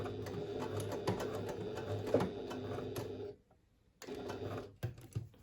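Domestic sewing machine stitching along the stitch line of a fabric pouch in short bursts, a pause near the middle, then stitching resumes briefly at moderate, close level.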